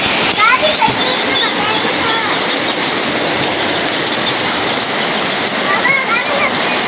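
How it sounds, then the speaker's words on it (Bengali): Heavy rain pours down around a kitchen stove in a rural cookhouse, a dense, loud, continuous hiss and splatter of water with no break throughout. "চুলার চারপাশ দিয়ে বৃষ্টি পড়তেছে"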